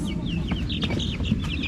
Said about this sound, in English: To wait till the chickens are on the roost.